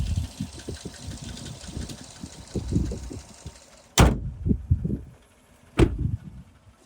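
A 2014 Chevrolet Silverado Z71 4x4 with a 5.3 engine idles quietly and evenly, interrupted by two sharp nearby clicks or thumps.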